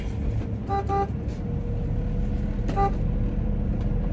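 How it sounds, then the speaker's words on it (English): A semi truck horn honks twice in short bursts over a constant low engine rumble from the cab of an owner-operator's rig. "I was honking our old boy so he knows I'm coming and he let me out the gate."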